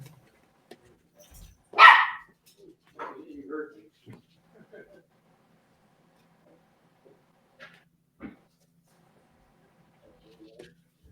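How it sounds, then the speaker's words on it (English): A son's small dog barks in the background, one loud sharp bark followed by scattered fainter yips and whimpers across long quiet stretches. "I've got a dog barking in the background."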